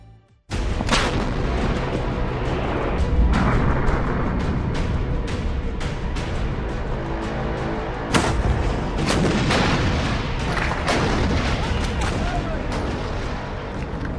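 Indigenous ATAGS towed howitzer guns firing a ceremonial salute at the Red Fort on Independence Day, a loud dense barrage of booming blasts continuing almost without pause and echoing broadly.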